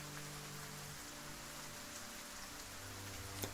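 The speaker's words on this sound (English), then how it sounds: "There's the sound of the rain," Steady rain ambience plays during a tabletop roleplaying session set in the Elder Scrolls world of Daggerfall, a dense constant hiss of falling rain with faint low tones beneath.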